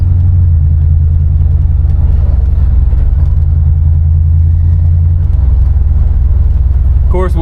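A 1973 Chevrolet Caprice convertible with a swapped-in LS V8 cruises along, its engine and road noise forming a loud, steady low rumble from inside the car, with a brief voice at the end.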